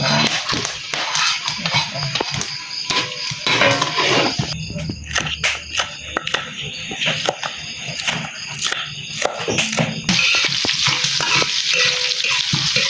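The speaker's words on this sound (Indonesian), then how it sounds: "Goreng bawang dulu." Onions sizzle and crackle steadily in a hot pan, with stirring clatter and scraping throughout, fairly loud and close.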